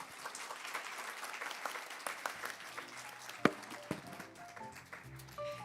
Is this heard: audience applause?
yes